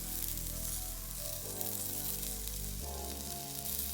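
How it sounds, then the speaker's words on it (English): Pan-seared Cape hake fillets in a pan of browning butter and oil give a steady, dense sizzle and crackle, close and continuous, with no talking. "As you can see, the butter and the oil are starting to brown."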